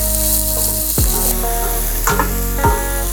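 Sliced big onions frying in a pan for kuska: a loud, steady close sizzle fills the whole stretch, with a few stirring scrapes and spatters mixed in.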